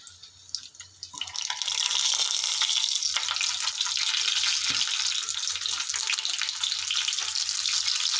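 Stuffed parwal (pointed gourd) sizzling in hot oil, a steady bright crackling fry that jumps up after a quieter start and then holds, close by with no talk.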